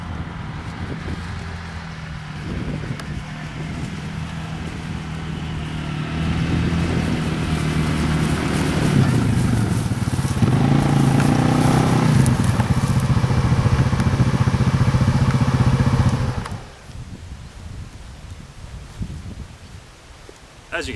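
A TGB Blade 550 quad bike engine runs steadily, rising to a louder, rougher drone for several seconds before cutting off sharply, with wind noise and someone talking over it outdoors.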